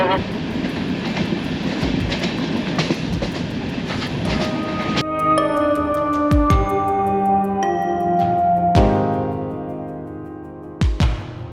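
A Doon Express passenger train rumbles steadily with a rhythmic clatter of wheels on track, then metallic clanks and screeches as it rolls on; talking is heard over it.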